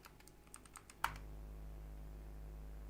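A Linux command being typed on a computer keyboard, a short run of quick light key clicks ending in one firmer keystroke, close and quiet, followed by a low steady hum.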